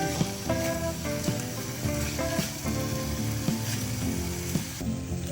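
Fresh chhana sizzling softly on a hot tawa as it is stirred and mixed, a steady low frying hiss running under louder background music.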